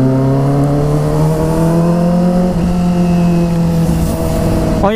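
A Kawasaki ZX25R motorcycle fitted with an Over Racing GP RS full-system exhaust holds a loud, steady, buzzy high-rev drone close by, then blips sharply upward right at the end.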